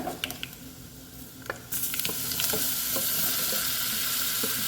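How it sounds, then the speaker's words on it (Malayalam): Wild lemon pickle, spiced with Kashmiri chili powder, is stirred in a frying pan, giving spoon scrapes and clicks over a steady oil sizzle that swells louder partway through and holds. "വടുകപ്പുളി നാരങ്ങ ഇളക്കി."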